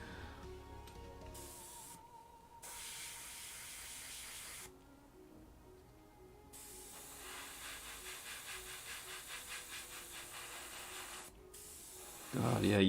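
An airbrush sprays paint onto Khorne daemon miniatures in a steady hiss that cuts out and resumes in separate bursts, close and clear, ending with a sharper louder spurt.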